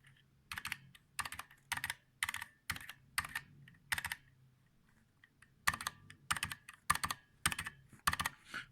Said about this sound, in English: Okay, so we have lubed and filmed cherry MX solvents.